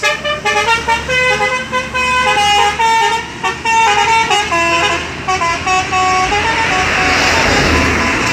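Sumbar intercity bus setting off from Masjid Al Falah Penerokan, its loud musical multi-tone horn playing a long, steady run of melodic toots over the hum of the engine.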